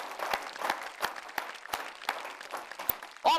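Audience applause for poet Shaista Jamal at a shayari and ghazal recital, a moderate patter of clapping with a few sharper claps standing out, holding steady for a few seconds before a brief louder burst at the end.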